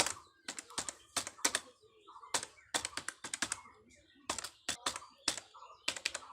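Rapid bursts of keystrokes clatter on a computer keyboard as HTML and CSS code is typed into Notepad, close and crisp in short irregular clusters separated by brief pauses.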